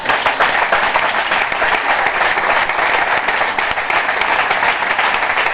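A church congregation in Abidjan applauds Jesus, loud, dense and continuous clapping from many hands that holds steady throughout.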